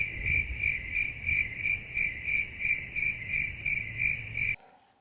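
Crickets chirp steadily in a fast pulsing trill, loud and close, as a plain sound effect that cuts off abruptly just before the end.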